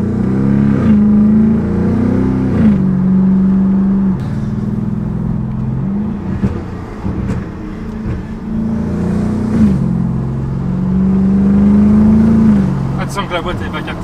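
Modified car engine revving loudly and roughly, with one cylinder running unevenly, close by and sustained with repeated rises and dips in pitch, while people talk over it.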